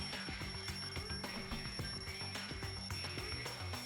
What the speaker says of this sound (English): The wall clock just started ringing.